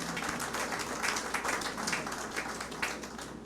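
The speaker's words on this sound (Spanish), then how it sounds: "Sí, un aplauso al Señor" A Spanish-speaking church congregation claps for the Lord during a sermon, a fairly quiet, even patter of many hands held for a few seconds.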